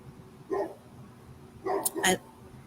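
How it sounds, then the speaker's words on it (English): A dog barks somewhere off in the distance: one short burst of barking, then a second, louder cluster of two or three quick barks about a second later, faint against a quiet indoor room. "can you guys hear that dog?"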